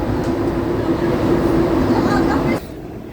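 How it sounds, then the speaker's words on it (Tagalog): A passenger train rumbles past close by at a nearly empty station on a holiday, a steady low roar with a droning hum that cuts off sharply near the end, with a voice speaking over it. "Bye-bye train."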